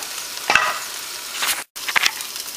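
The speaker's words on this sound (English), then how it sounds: "put the meat in. Cook the meat" Beef strips sizzling in a hot stir-fry pan alongside broccoli, snow peas and scallions, a steady frying hiss with a few sharper crackling bursts and one brief dropout, no voices.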